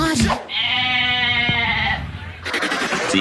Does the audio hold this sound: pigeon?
no